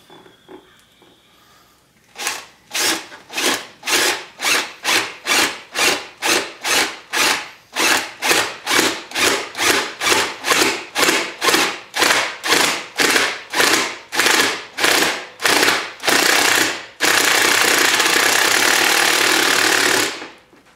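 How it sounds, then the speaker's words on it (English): A 3/4-inch spade bit bores through a plastic RZR 800 clutch cover in a long run of close, loud power-drill bursts, each pulse rising and falling, ending in a few seconds of continuous grinding. "I'm going to use a 3/4" spade bit to drill the initial hole"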